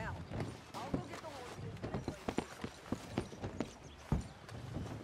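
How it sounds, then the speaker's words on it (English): Horse hooves clip-clop in Red Dead Redemption 2, a run of quick, fairly close hoofbeats with uneven rhythm over a soft game background and no speech. "I'll go get the"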